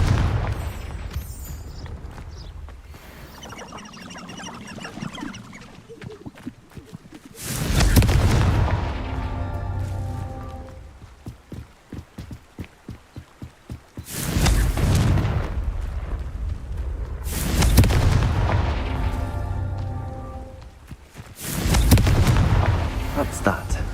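Confringo fire spells in the Hogwarts Legacy video game burst as several loud booming explosions with crackling tails, spaced across the stretch amid rumbling game effects and occasional speech.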